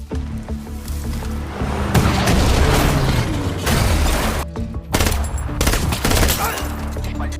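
Gunfire erupts in a James Bond film chase scene set by a foggy jungle river, loud bursts of repeated shots and booms layered over a driving music score, with brief dips between volleys.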